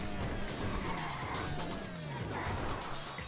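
A car engine heard from inside while driving through city streets, with a wavering low drone and a whine that rises and falls, steady and moderately loud.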